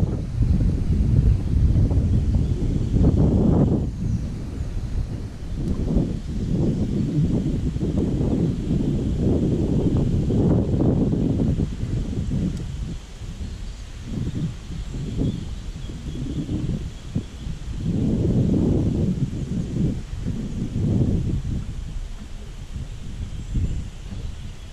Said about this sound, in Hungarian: Szél.